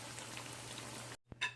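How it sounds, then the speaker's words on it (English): Akara bean fritters fry in hot oil, giving a quiet, steady crackling sizzle that runs evenly before cutting off abruptly near the end, followed by a brief knock. "So I'll come back to show you guys when I'm done frying all of this akara."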